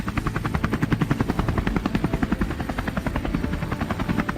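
A helicopter roars low over brushland during a night wild hog hunt, its loud, steady rotor chop pulsing rhythmically and close throughout, with no voices.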